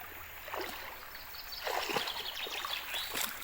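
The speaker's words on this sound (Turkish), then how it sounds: "Yani dere böyle geliyor ama su sığ." Shallow stream water trickles and babbles steadily over a few seconds, close by, swelling slightly at times, with no voices, on the Kirazdere stream.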